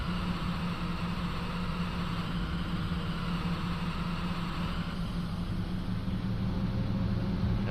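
Steady bus engine running in a video game, a constant low rumbling drone with a dense idle hum that holds unchanged for several seconds, with no talk over it.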